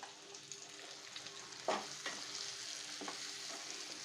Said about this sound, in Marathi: हा मसाला टाकल्यानंतर वांगे पुन्हा परतून घ्यायचे